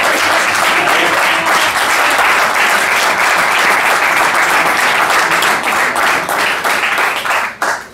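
Loud, sustained applause from an audience at a talk for Paloma, dense clapping that holds steady for several seconds before thinning abruptly at the end.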